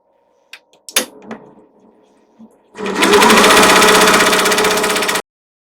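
A sewing machine stitching pockets on a tote bag runs in a loud, fast, steady whir for a couple of seconds, after a few handling clicks and knocks.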